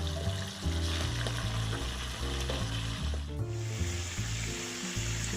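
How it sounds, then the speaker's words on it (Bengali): Chicken frying in hot oil left from frying potatoes, a dense continuous sizzle with rhythmic stirring scrapes, close and loud throughout. "আলুটা ভেজে নেওয়ার পর ওই তেলে চিকেনটাও ভাজবো"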